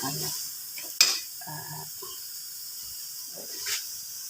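Dried fish goes into a pan of sautéing okra, string beans and chicken, giving a soft, steady sizzle with a brief clatter of stirring as it lands.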